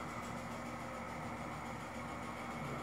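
Steady motor hum from an Agile Eye robot running at a constant speed, with a dense, even drone and faint tonal whine throughout, no voices.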